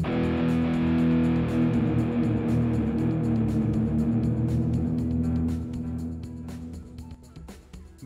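An electric guitar played through a Mooer GE200 preset with amp, cabinet, reverb, delay, EQ and overdrive gives a sustained, distorted chord that rings loudly and then decays with lingering reverb tails and a few quieter picked notes.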